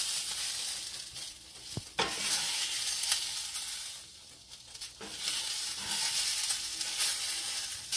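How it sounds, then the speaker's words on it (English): A utensil scrapes and stirs cooked food out of a cast iron skillet, with scattered sizzling and metallic scrapes. The sound is close and moderately loud, without any voice, while tomatillo avocado salsa ingredients are cooked. "I'm going to go ahead and move everything out of my cast iron skillet like this."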